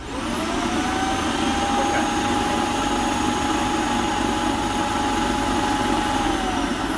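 A Shark NV752 vacuum cleaner runs with a clogged hose, a loud continuous motor drone with a high whine that holds steady from start to finish after a quick spin-up.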